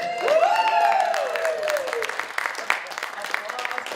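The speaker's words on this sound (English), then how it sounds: "sustaining the applause so there's not that awkward pause when they're almost there" Audience applause greets a volunteer at a university winter magic show, a dense wash of clapping that swells at first and then holds steady, with voices and a whoop-like tone over it.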